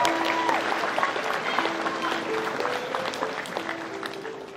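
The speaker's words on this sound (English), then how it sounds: "Give her a round of applause." At a macabre magic show, the audience gives a round of applause, a full burst of clapping that fades gradually, with steady sustained tones running beneath it.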